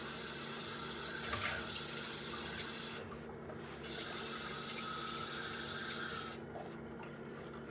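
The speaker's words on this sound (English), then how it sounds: "Add some water to it." Water from a tap pouring into a cooking pot for karhi, a continuous close splashing rush that stops briefly twice, at moderate loudness with no talk.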